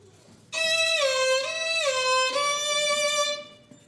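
An orchestra plays a bright, bending melodic phrase imitating a rooster's crow, rising and dipping pitch held for about three seconds, alone, at a family concert.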